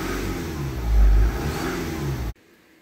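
Car engine revved while sensor data is watched, a steady droning rise with one stronger swell partway through before it cuts off abruptly near the end.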